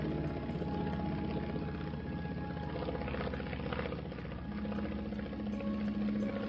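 Light aircraft engine droning steadily during a flight over the Čergov forests near Stará Ľubovňa, a constant close hum filling the whole stretch without any voices.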